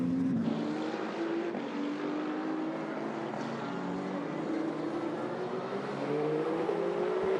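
Race cars, including a Penske Porsche, circle the Bahrain WEC endurance circuit. Several engines whine at once, steady and moderately distant, with pitches sliding slowly up and down as the cars pass. There is no talk.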